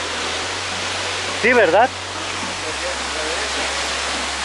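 Steady rushing roar of the Aconco cascades waterfall in Tetela de Ocampo, Puebla, filling the whole clip, with a brief burst of nearby voices talking over it midway.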